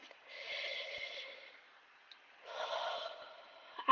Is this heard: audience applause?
no